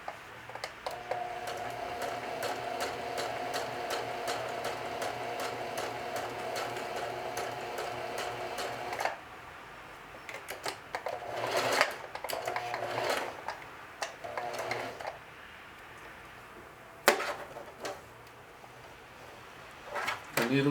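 A sewing machine stitching a watch pocket runs in a steady, rapid needle patter for several seconds, then stops. Short bursts of stitching follow, along with scattered clicks and handling knocks, and a person talks quietly between them.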